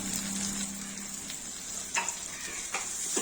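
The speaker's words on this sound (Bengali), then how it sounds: "ক্যাপসিকামটা এরকম মোটামুটি একটু ভাজা হয়ে গেলে চিড়ে রাখা কাঁচা লঙ্কা আর আদাটা দিয়ে দেবো।" Capsicum frying in a pan with slit green chillies and ginger for chilli chicken, a steady bright sizzle throughout with occasional stirring scrapes, close and fairly loud, no talk.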